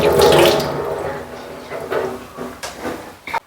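Water flowing from the inlet pipe of a home water purifier, a burst of running water near the start that tapers into softer trickling with a few clicks and knocks.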